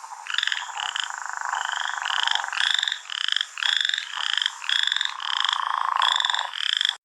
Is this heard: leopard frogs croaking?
yes